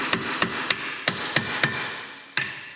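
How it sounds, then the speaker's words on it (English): A hammer strikes a rear brake disc on a Hyundai Tucson seven times in a fairly steady rhythm, each blow a sharp ringing clang with a short decay, close by, with a longer pause before the last. "you're turning it and hammering it at the same time"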